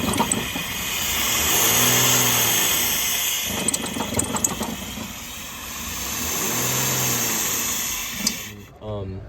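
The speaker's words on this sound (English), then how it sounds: "start up the car again" A car engine restarted during an EGR/PCV lab test with the PCV valve open and exposed, rising into two broad revs that swell and fall, loud and close, ending in a brief burst before cutting off.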